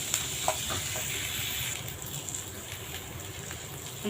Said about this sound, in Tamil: வெங்காயம் நல்லா வதங்கணும் கண்ணாடி பதமாக நல்லா வதங்கணும்